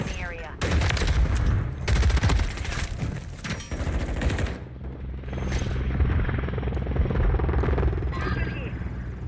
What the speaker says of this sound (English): Hostile Overwatch helo in the area.